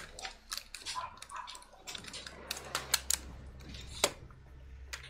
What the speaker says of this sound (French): Et Thibaut, tu peux arrêter de faire du bruit avec le clavier?